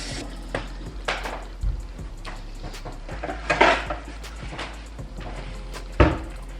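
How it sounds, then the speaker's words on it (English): Boiled eggs being cracked against a hard kitchen surface, a few scattered sharp taps and knocks at moderate volume, mixed with dish and utensil clatter over a low steady hum. "I'm gonna crack the eggs."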